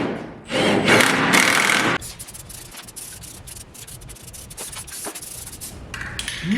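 Spray paint from a rattle can hissing onto a reused brace in a garage, with short bursts and a longer spray over faint rustling and handling noise.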